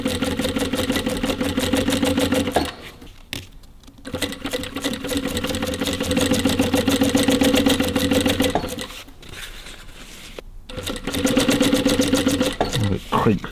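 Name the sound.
industrial walking-foot sewing machine sewing windlace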